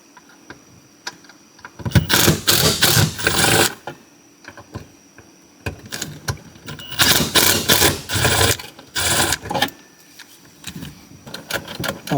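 Screws backed out with a power driver during a car heater core replacement: two long, loud whirring bursts with rattling clicks, separated by a quieter pause and a few handling noises.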